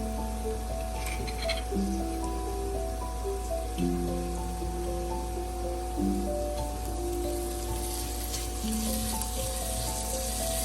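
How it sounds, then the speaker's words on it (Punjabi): Garlic and ginger frying in oil with already browned onions for a round squash curry, giving a continuous close sizzle with a light crackle, backed by music. "ਲਸਣ ਅਦਰਕ ਅਸੀਂ 25 ਮਿੰਟ ਭੁੰਨਾਂਗੇ ਜੀ"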